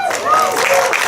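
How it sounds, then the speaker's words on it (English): Outdoor audience applause at a community park gathering, a dense, steady wash of clapping lasting about a second, with voices mixed into the crowd. "let's have another round of applause for the Dobros"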